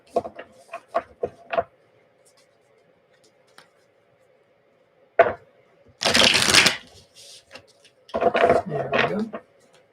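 Tarot cards being shuffled up close: quick dry riffles and flicks in short bursts, then a longer loud riffle of the deck, with a soft hum underneath and brief talking near the end.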